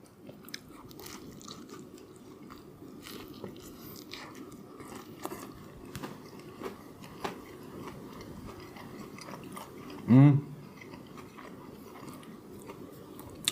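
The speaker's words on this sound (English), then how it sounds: "That crisp and crunch of that chicken" Crispy McDonald's fried chicken is bitten and chewed close to the microphone, a run of soft, irregular crunches and mouth sounds at low volume, with one louder burst partway through.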